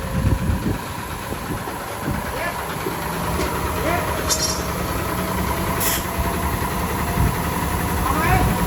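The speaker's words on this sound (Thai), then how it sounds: "เครื่องยนต์ AO9 นะครับ" A Hino 700 series truck with an A09 engine idles nearby, a steady low diesel rumble with faint clanks and workshop noises, and people talk over it.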